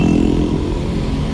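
A motorcycle engine revving up close, a steady throbbing mechanical drone held loud and even for a moment with no talk over it.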